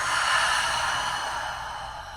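A long, deep breath out at the end of a chair yoga session, a steady airy exhale close to the mic that fades gradually with no talking.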